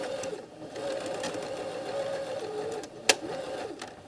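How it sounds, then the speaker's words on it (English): A sewing machine stitches across the top of a patch pocket in fabric, a steady close mechanical hum with a soft rapid needle rhythm, a brief sharp click near the end. "you're going to sew it at 5/8 of an inch"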